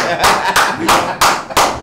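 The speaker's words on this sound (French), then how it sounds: "Applaudissez pour Fifi." Audience clapping for Fifi at the Tchintchin 2025 launch press conference: a handful of loud, close, evenly spaced bursts of claps over about two seconds, in a rhythmic pattern.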